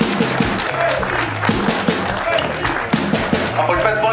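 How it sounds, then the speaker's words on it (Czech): Applause breaks out from the crowd at an amateur football match, a burst of scattered clapping heard over a stadium announcer's voice on the loudspeaker. "Hezký potlesk."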